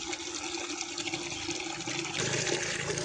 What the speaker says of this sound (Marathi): पाणी भरायला लावलंय बाल्डी.